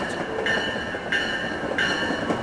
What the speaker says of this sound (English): Come on, this is the best train.